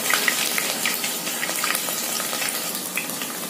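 Sliced onions fry in hot oil for beef nihari, a dense, even sizzle close up with small crackles and pops running steadily throughout, no voices over it.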